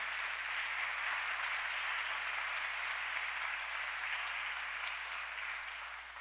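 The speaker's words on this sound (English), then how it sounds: "Just want to, please give a round of applause." Conference audience at Data Con LA 2018 applauding the volunteers, a dense, even wash of many hands clapping at once that holds steady and fades slightly at the end, with no talking.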